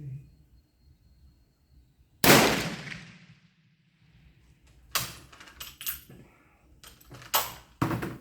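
Kropatschek rifle fired in a string of sharp, loud shots, the first with a long decaying echo and the rest following in quick succession with brief pauses between them.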